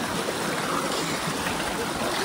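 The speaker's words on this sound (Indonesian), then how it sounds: "ini ada airnya juga air yang mengalir" Warm, sulphur- and lime-rich spring water flowing over the terraces at Hierapolis, Turkey, a steady close trickling and gurgling rush with no break.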